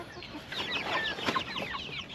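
Young ducklings in a backyard garden peep and chirp continuously, many high thin calls overlapping nearby amid steady outdoor background noise.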